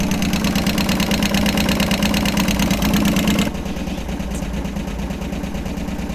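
A Harley Sportster engine idles after losing all its oil, with an abnormal noise from the forward cylinder. The close, steady, loud idle drops in level partway through and keeps running.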